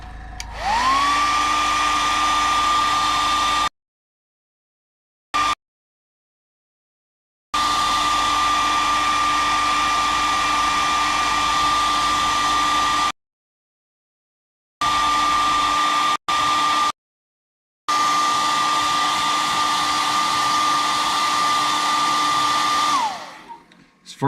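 A handheld hair dryer blows steadily in long stretches while drying fresh paint on a fishing lure, a loud, close whining whir that cuts off abruptly several times and then starts again, ending with a wind-down.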